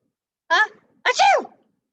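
A single human voice imitates a sneeze while reading a children's story aloud: a quick sharp intake followed by a louder burst, both close and clear against silence.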